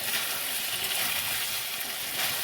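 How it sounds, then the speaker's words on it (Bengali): Chicken with spices sizzles in hot oil in a pan, a steady close crackle of frying that runs evenly without pause. "আর একটু কষানো, এটা যত ভালো কষানো হবে এর করে স্বাদটা তত আসবে।"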